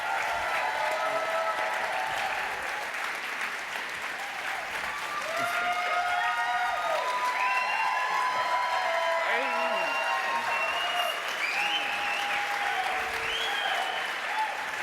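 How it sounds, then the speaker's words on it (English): An audience at a Duchenne awareness event gives sustained, even applause for nearly fifteen seconds, a continuous wash of clapping with scattered voices and light cheering mixed in. "Let's give another round of applause to these guys."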